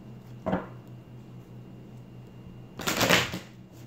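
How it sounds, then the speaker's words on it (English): Tarot cards are shuffled in two bursts, a brief riffle first and then a longer, louder flurry of papery slaps, close up against a low steady hum. "Give a good shuffle."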